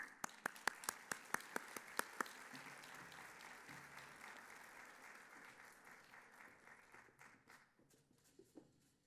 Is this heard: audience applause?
yes